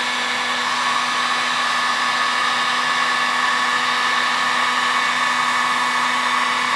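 An electric heat gun blows hot air onto a damaged car bumper, producing a steady, loud, unbroken whooshing hum with a constant motor tone throughout.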